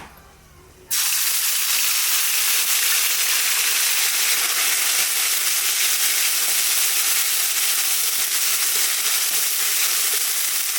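Cloves, cinnamon, cardamom, bay leaf and a ground ginger and green chili paste dropped into hot oil, bursting into a loud, sudden sizzle that holds as a steady, dense frying hiss, close by with no talk.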